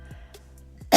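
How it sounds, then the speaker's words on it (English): A woman recovering from a month-long illness lets out a single loud, close cough at the very end. It follows a few faint breaths and clicks over a low steady hum. "I still have a bit of a cough"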